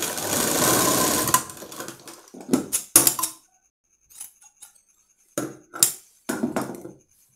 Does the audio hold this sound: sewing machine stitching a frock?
yes